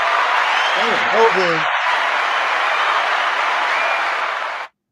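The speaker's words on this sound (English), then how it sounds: "We got the hand claps." A hand-clap sound effect fires from a sound machine as a continuous clapping wash lasting a few seconds, with a brief spoken word over its start, then stops abruptly.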